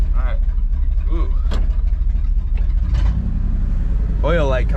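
A tuned-up 1979 Ford F150 engine runs with a steady low rumble throughout, while someone talks over it and brief higher-pitched noises come and go.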